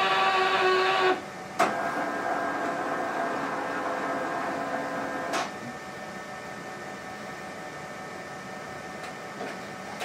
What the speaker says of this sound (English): The printer will feed it into itself and scrub.